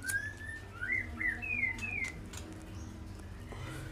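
A white-rumped shama gives a quick series of whistled chirps and sweeping notes, fairly faint against quiet background noise.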